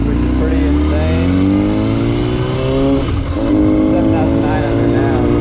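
A 1000cc motorcycle with low mileage in mint condition being ridden, its engine loud and close, pitch climbing and dropping through gear changes under constant wind rush.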